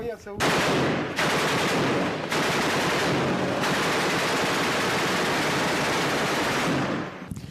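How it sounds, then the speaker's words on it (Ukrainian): Dense, continuous gunfire in urban combat in Donetsk, shots fired from ruined houses, crackles loudly for several seconds, bursts overlapping into a steady roar with short dips in between. "З розгромлених будинків бойовики ведуть вогонь по українській армії."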